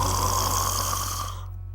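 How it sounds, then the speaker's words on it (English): A cartoon puppy snores loudly in a steady, sustained drone that fades away near the end, with no talk over it. "And what a loud snore!"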